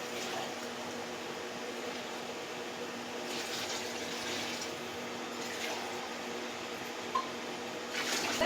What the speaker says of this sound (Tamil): இப்போ நம்ம தண்ணி ஊற்றிட்டு அரிசி போட்டுக்கலாம்.